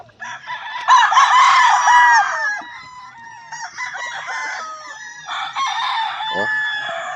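Gamecocks at a game farm crow loudly nearby, several long cock-a-doodle-doo calls overlapping with clucks and other birds crowing in the background, with some talk underneath.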